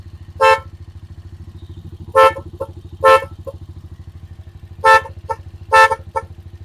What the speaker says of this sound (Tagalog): Hindi na pulido yung tunog ng ating busina.